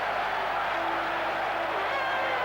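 Steady, broad crowd noise from a cricket Test match in Trinidad, West Indies against England in 1990, a continuous distant roar of cheering spectators after a boundary, with no clear claps standing out.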